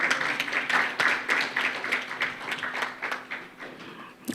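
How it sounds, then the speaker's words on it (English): Audience applause for a professor of obstetrics and gynecology welcomed at a climate change and maternal health breakout session, with steady, moderate clapping from a modest crowd in a conference room, heard at a distance. "Please, a round of applause."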